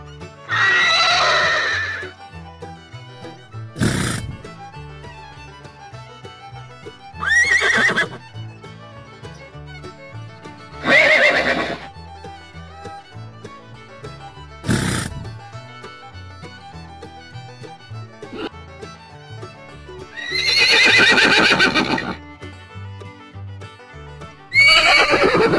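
Horses neigh loudly and repeatedly, with about seven separate whinnies spaced several seconds apart, some long and trembling, over a steady background of soft music.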